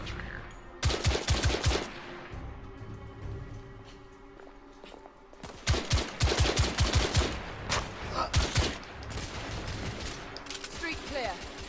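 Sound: gunfire from a gun in the video game The Order: 1886

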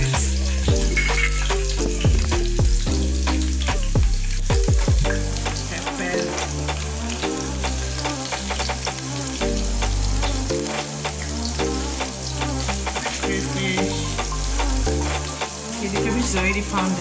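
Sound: onions, pepper and crayfish frying in hot oil

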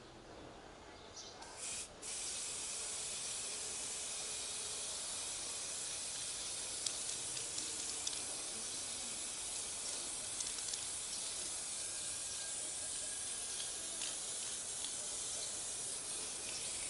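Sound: gold spray paint can spraying a bottle

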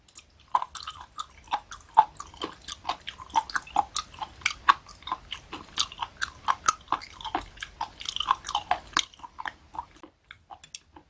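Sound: chewing a lettuce wrap with spoon worm (gaebul)

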